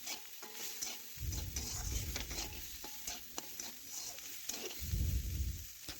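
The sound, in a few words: stirring fried cauliflower and potatoes with red chili powder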